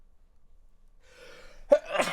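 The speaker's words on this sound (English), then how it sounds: "That sneeze came out of nowhere." A single sharp sneeze bursts out near the end, preceded by a soft breathy intake, close and loud against otherwise quiet background.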